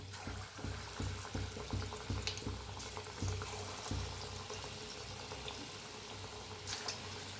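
Bhaji pakoras frying in hot oil give a steady bubbling sizzle with soft crackles, loudest near the start as batter drops in, then settling into an even simmer.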